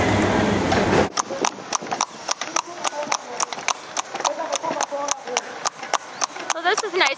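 Steady, rhythmic clip-clopping of a cart horse's hooves on hard pavement, close by and regular, with a short burst of noise at the start.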